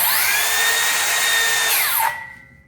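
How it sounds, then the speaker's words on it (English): A Makita 7 1/4-inch rear-handle circular saw runs loud and close with a steady high whine, then winds down as the motor is released, coasting quieter to the end. "That is much quieter than standard 7 1/4 saw."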